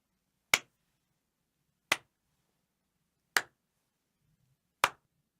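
Four sharp, isolated claps of paws struck together, evenly spaced about one and a half seconds apart, each a crisp close slap with a quick decay into near silence.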